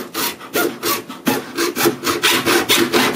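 A hand saw cuts through wood in quick, rhythmic back-and-forth strokes, close and loud, with no talking.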